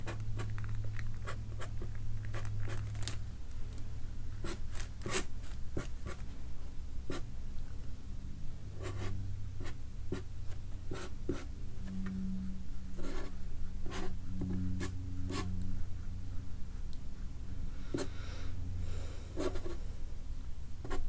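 A pencil sketches a rough tattoo design on paper, soft scratchy strokes and taps coming close and quiet in an irregular rhythm, with a faint low hum underneath.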